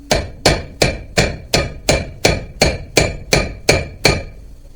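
Eleven sharp, evenly spaced hammer blows ring out on a big socket, tapping a part into the front end of a 2012 Polaris Ranger 500 Crew. Each strike is loud and close, with a bright metallic ring, and there is no talk.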